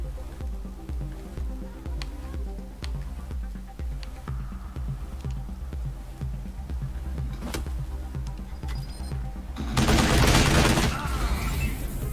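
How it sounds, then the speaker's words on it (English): Submachine gun fire in the video game Wasteland 3: a steady run of rhythmic gunshots under a continuous game soundscape, ending in a louder, dense burst near the end. "that submachine gun is so good"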